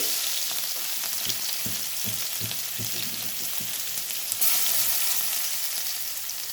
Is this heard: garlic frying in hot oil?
yes